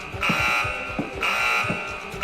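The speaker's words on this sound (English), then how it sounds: "Oh no, it's the fire alarm." A school fire alarm buzzes loudly in two long, steady blasts separated by a brief gap, harsh and continuous.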